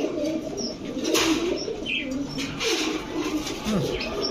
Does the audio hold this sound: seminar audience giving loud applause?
no